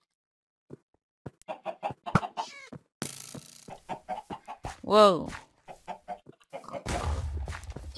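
Chickens clucking in the video game Minecraft, a string of short clucks and squawks between a voice that speaks and exclaims, with a louder burst of noise near the end.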